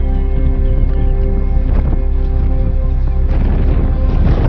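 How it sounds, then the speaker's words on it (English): Gale-force wind gusts across a Scottish Highland hillside, a steady roar against the microphone that swells louder toward the end, with a constant low engine-like drone underneath. "the wind picks back up again. More intensely this time, it's basically gusty gale force conditions"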